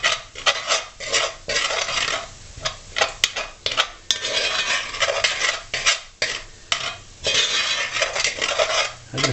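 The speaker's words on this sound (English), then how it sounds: "this is making the roux." A roux for Salisbury steak gravy is stirred in a pan, with a spoon scraping and clacking against the metal in quick, uneven strokes over a soft sizzle.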